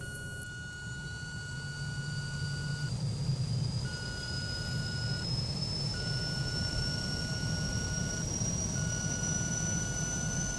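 A Cessna 208B Grand Caravan turboprop in X-Plane 11 spools up during engine start, a steady broadband rumble with a rising whine that climbs slowly throughout, plus a repeating intermittent warning tone, loud and continuous with no talk.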